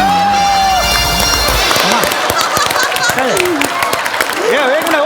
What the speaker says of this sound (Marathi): टाळ्या थांबू आधी